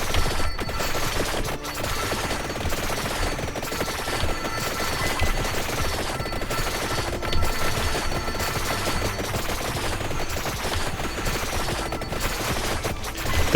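Knife weapon in Vampire Survivors, evolved to its max form, firing in a dense, non-stop stream of rapid game sound effects that stay loud and steady throughout.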